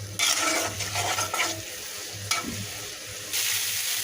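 Spice paste for a papaya and country chicken curry is stirred and fried in a pan, a steady sizzle broken by scraping stirs that come in bursts.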